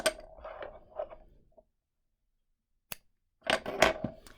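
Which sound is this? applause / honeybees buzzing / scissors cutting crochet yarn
scissors cutting crochet yarn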